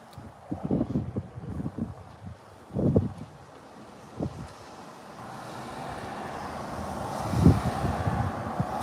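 Wind blows outdoors in gusty rumbles against the microphone, rising to a steady rushing roar in the second half.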